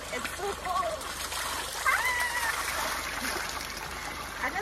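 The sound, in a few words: water flowing from a PVC pipe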